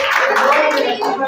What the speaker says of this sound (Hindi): एक बार ताली हो जाए सर जी।